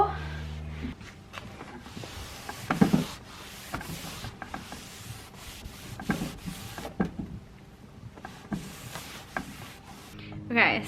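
Steady rough rubbing of sandpaper on a wooden dresser, a continuous scratchy rasp with a few louder knocks and strokes, fairly close.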